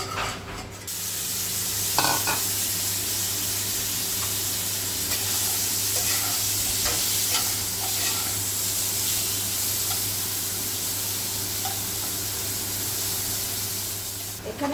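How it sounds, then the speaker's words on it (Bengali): Pumpkin slices fry in hot oil for a Bengali kumro bhaja, giving a steady, close sizzle and hiss throughout, with a few light clinks of a utensil against the pan. "এরপরে আমি কুমড়োটা ভেজে নেবো"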